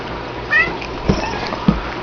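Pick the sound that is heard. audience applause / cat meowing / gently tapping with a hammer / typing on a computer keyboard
cat meowing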